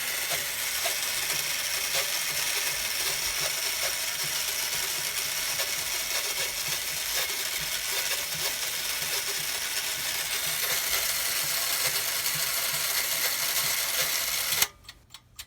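A Reliance mechanical time switch clock ticks and clicks in a steady, regular rhythm over a hissing background, close-up and fairly quiet, ending with a few louder handling knocks.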